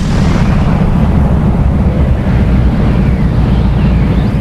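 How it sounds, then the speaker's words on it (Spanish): Supernova explosion effect: a dense, continuous deep roar with heavy low rumble and hiss, loud and steady throughout without distinct bursts. "cuando una estrella gigante se apaga, lo hace con una explosión"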